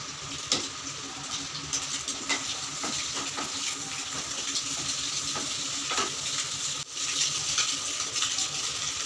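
Onions and egg fry in a pan with a steady, close sizzle and crackle throughout, broken by occasional scraping and stirring taps of a utensil against the pan.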